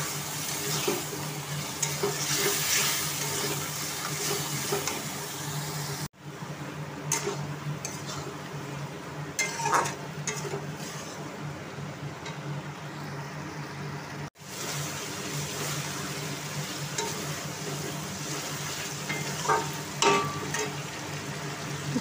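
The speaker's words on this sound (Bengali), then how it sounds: "চিকেনটা প্রায় কষা হয়ে গেছে।" Marinated chicken fries in a pan with a continuous sizzle and occasional stirring scrapes and knocks, fading briefly in two short breaks.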